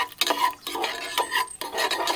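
Cashews frying in ghee in a pan are stirred in quick bursts, with a spoon scraping and clattering against the metal pan in three or four close, distinct strokes.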